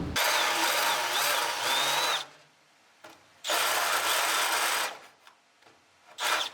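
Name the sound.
countersink bit deburring a hole in a roll cage pad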